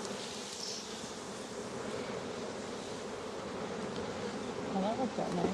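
Honey bees swarm and buzz around an old hive while a nuc is being dropped in, a dense, continuous drone close by and fairly loud, with faint voices at the end.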